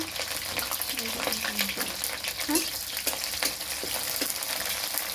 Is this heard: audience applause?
no